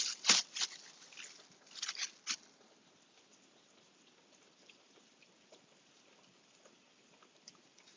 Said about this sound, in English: Y'all hear that rain in the background?